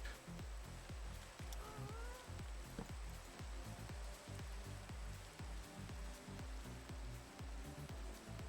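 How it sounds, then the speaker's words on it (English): Steady rain falls in the video game Minecraft, a continuous dense patter with faint, evenly spread drops throughout and no voices. "It's just rain."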